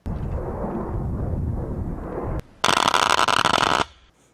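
A Ryobi bug zapper fires a dense burst of sharp crackling pops lasting about a second, loud and close, after a stretch of rumbling outdoor background noise.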